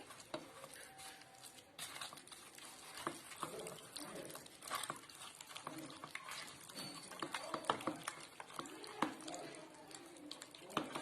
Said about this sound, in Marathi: आता हे सगळं आपल्याला एकत्र व्यवस्थित करून घ्यायचं आहे. चांगलं हलवून घ्यायचं.